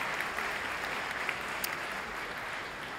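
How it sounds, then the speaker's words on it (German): An audience at the Hamburg Innovation Summit applauds the organizers, a broad, sustained clapping from a large crowd at moderate level, steady throughout with no voices on top. "noch mal einen tosenden Applaus und ein Dankeschön für alle, die sich hier so für diesen Hamburg Innovation Summit eingesetzt haben"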